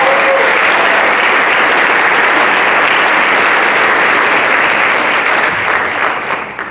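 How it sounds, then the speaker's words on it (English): Loud, dense applause from an audience at a National Honor Society ceremony, sustained evenly throughout before tapering slightly at the end. "a round of applause for all the folks who work together and a round of applause for all of us"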